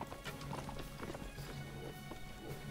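Horse hooves gallop in rapid, rhythmic clip-clop beats in the Mount & Blade video game, fairly close and steady.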